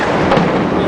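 Fireworks at the 2012 Kanagawa Shimbun 70th anniversary fireworks festival boom in a single dull, muffled thud amid a wash of distant crowd and outdoor noise.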